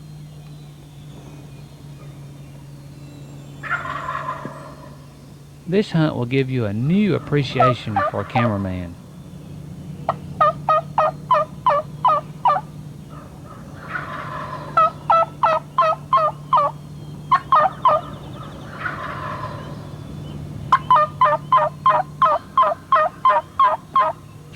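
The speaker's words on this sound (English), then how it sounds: "Michael's calling, the turkeys are gobbling, they're making their way towards the camera." Wild turkeys gobble from the roost during a spring hunt, with a loud run of close, repeated gobbles in quick bursts over a steady low hum. Someone talks briefly near the start.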